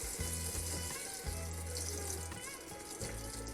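Cold water runs steadily from an RV travel trailer faucet, a constant close hiss of flow with low pulsing tones underneath and no talking.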